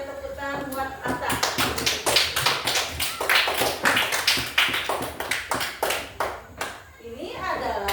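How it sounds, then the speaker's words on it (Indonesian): Classroom of children clapping together for a classmate, a loud, close burst of rapid hand claps lasting several seconds, with a voice briefly heard near the end. "Oke, tepuk tangan buat Atta."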